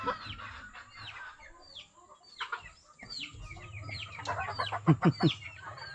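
A tornado hatch cross chicken, a young bird not used to being handled, gives repeated soft clucks and short squawks up close, building to a quick cluster of louder clucks near the end, with low background rumble.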